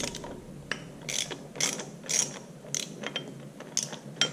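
A ratchet loosens a bolt on the engine front plate of an IHC Farmall Super MTA tractor, giving a series of quick, crisp clicking bursts in an irregular rhythm, close and fairly quiet.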